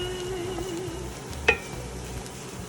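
Onions with thyme and parsley sautéing in a pan, a quiet steady sizzle with a faint tonal whine early on and one short clink midway.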